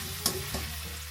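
Onions dropped into hot oil for egg fried rice, giving a steady low sizzle with two brief louder hisses as they hit the pan, moderately close.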